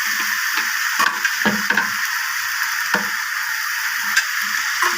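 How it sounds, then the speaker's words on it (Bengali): Taro stolons, potatoes and prawns fry together in a pan under a steady hiss, with a few sharp spatula knocks and scrapes as the mix is stirred, near and alone. "এবার আলু, চিংড়ি মাছ, কচুরলতি সব একসাথে দিয়ে দিলাম, দিয়ে এবার নেড়ে নিলাম।"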